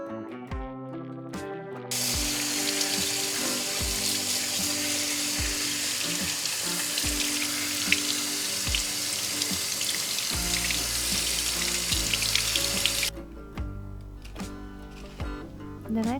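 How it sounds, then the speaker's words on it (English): A leek being washed under a running kitchen tap in a sink, with a steady broadband water rush lasting most of the stretch, fairly loud and continuous, over light background music. "I start by cutting the leek because I want to wash it very well."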